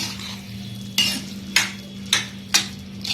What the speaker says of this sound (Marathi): आता व्यवस्थित आपण याला मिक्स करून घेणार आहोत थोडा वेळ शिजवणार आहोत